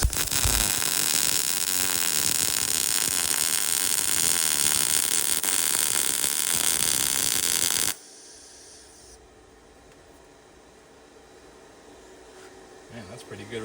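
An Arccaptain MIG205mp MIG welder lays a bead as a steady, loud, close crackling hiss that runs unbroken for about eight seconds. It then cuts off abruptly to faint background noise.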